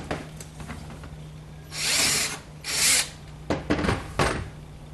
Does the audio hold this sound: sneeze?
no